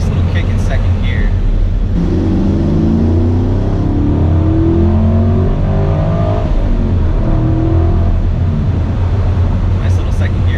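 A 2016 Chevrolet Camaro SS pulls hard in second gear, its engine note droning loud and steady from inside the cabin with a rising harmonic whine throughout.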